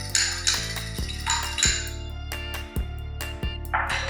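An egg being beaten in a bowl for Thai salmon burger mix, with a steady rhythm of sharp clinks as a utensil repeatedly strikes the bowl, loud and close, with no talking.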